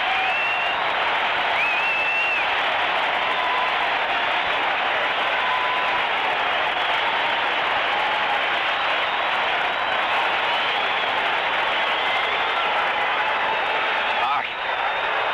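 A large basketball arena crowd roars and cheers continuously, a loud, sustained wall of noise that barely varies from start to finish.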